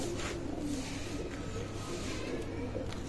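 Pigeons in a loft, a pair of Kalanka high-flying birds among them, cooing in a low, steady murmur over constant background noise, with no clear individual calls standing out.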